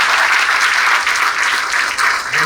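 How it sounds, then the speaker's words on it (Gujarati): Members of a book club at its annual meeting break into loud, dense applause, a continuous close wash of many hands clapping for the whole stretch. "મારે આપણા બધા માટે ખૂબ તાળીઓ પડવી જોઈએ"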